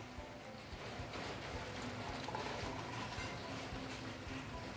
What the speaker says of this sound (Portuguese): Olha o barulhinho atrás. Chuva de verão.